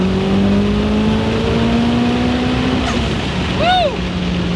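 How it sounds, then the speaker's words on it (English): A turbocharged 600HP Toyota RAV4 accelerating with the windows down, heard from inside as a steady loud engine drone with a gradually rising whine, then a brief shift-like drop near the end, with no talk over it. "you get more turbo with the windows down"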